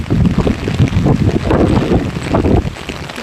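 Strong wind gusting during heavy rain outside an apartment, a loud, steady buffeting roar with low rumbling swells and no voices.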